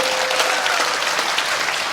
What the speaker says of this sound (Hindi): एक बार मेवाड़ की तालियां चाहिए मुझे।